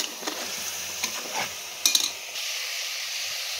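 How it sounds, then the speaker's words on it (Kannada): Masala paste fries in oil for a village-style chicken fry, a close steady hiss with a few stirring scrapes and a short clatter partway through, no talking. "ಇದನ್ನು ನೀಟಾಗಿ ಮಿಕ್ಸ್ ಮಾಡಿಕೊಂಡು, ಇದು ಆಯಿಲ್ ಬಿಟ್ಕೊಂಡಿದೆ ಅಲ್ವಾ, ಈ ಆಯಿಲಲ್ಲಿ ಚೆನ್ನಾಗಿ ಫ್ರೈ ಆಗಬೇಕು."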